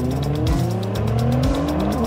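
A Nissan Skyline GT-R launches hard on a timed track lap, its engine roaring loud and close as revs climb through quick gear changes over about two seconds.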